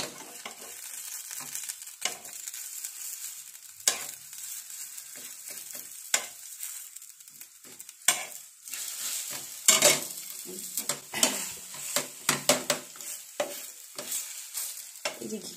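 Rolled rice-flour pithe frying in ghee in a pan, a soft sizzle under frequent sharp clinks and scrapes of a utensil, busier and louder in the second half, with no voices.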